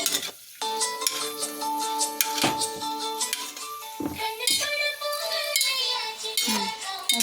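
Paneer cubes fry in a pan with steady sizzling while a utensil clinks and scrapes against the metal in repeated strokes, close and fairly loud, with no talking.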